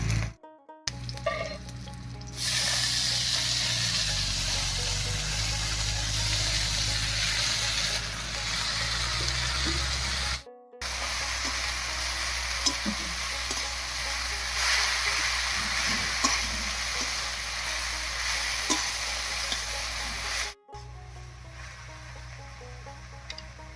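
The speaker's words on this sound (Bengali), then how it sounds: "এবারে শাকটা দেব।" Water spinach (kolmi shak) drops into a wok of fried crushed garlic and slit green chillies, setting off a loud, steady sizzle that carries on with brief breaks and stirring noises, no talking.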